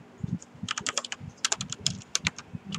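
Rapid typing on a computer keyboard, an irregular run of close, crisp key clicks with no speech, entering a welcome sign's text in 3D camera tracking software.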